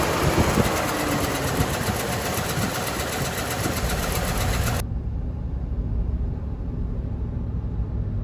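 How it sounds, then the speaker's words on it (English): GM 5.3L V8 truck engine droning steadily while driving, a loud constant rumble with a continuous noisy roar over it that drops away sharply partway through, leaving the lower hum. "We're gonna gradually increase the speed and slowly get the RPMs up."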